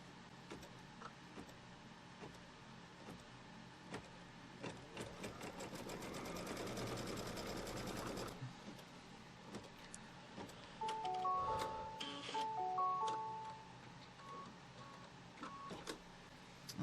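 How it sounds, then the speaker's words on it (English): A quilting sewing machine stitches a tack-down line across a quilt block: a rapid, even run of needle strokes builds and stops, followed by scattered clicks and a few short electronic beeps. "Now the machine is going to do a stitch line from here to here, which will tack all of this down."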